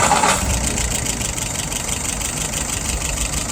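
A Yamaha YS 637S engine runs steadily at idle after starting, a loud continuous mid-pitched drone with a rhythmic mechanical pulse, close by and without voices.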